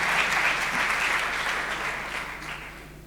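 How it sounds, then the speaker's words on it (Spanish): An audience applauds at a live show, a dense wash of clapping that stays loud and slowly fades over a few seconds. "disfrutemos y démosle otro aplauso"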